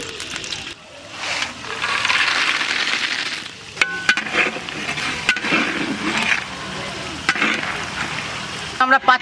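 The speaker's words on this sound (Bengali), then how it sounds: "আগে বড়ি ভাজে নেই" Bori lentil dumplings frying in oil in a wok, a steady sizzle with scraping and clattering stirring sounds, close up, while people talk now and then.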